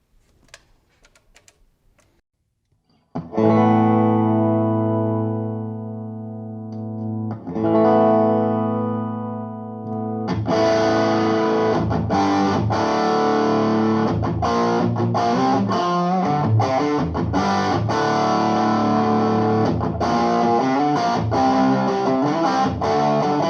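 An electric guitar plays through Boss, Strymon and TrueTone effects pedals: sustained chords ring out after a short quiet start, then give way to choppy, rhythmic strummed passages with a processed, effect-laden tone, loud and alone.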